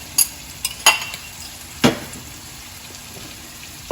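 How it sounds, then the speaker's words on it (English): A spoon stirs beaten eggs into a pot of grits. Several sharp scrapes and clinks against the pot come up over a low background hiss, separated by short pauses, and nobody speaks. "So I'll slowly stir that in together."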